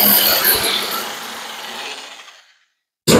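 A power tool cuts a piece of sheet metal from an old shoebox Ford in half inside a garage, a loud, continuous broadband grinding that holds for about two and a half seconds, trails off into silence, then bursts back briefly at the end.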